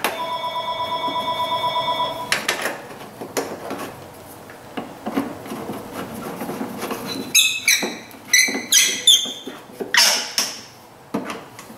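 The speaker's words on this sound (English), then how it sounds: "There's the phone again." A telephone rings steadily for about two seconds, then, after clattering and knocking in a workshop, sharper ringing bursts return in a rapid pattern, close and clear.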